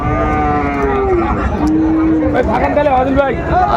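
Sahiwal bulls at a Dinajpur cattle market give several long, drawn-out moos that overlap one another, close and loud over a background of crowd chatter and voices.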